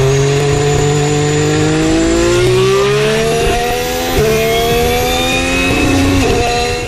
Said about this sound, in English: And that was the sound of the Red Bull, who has now made it back to the pits